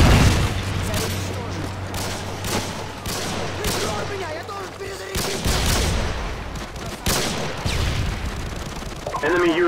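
A Call of Duty MW2 Ground War Domination match on the Derail map, with dense gunfire, booming blasts and explosions from a Predator missile strike, loud and chaotic, layered under radio voice callouts.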